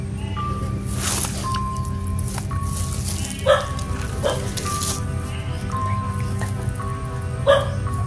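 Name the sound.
dog barking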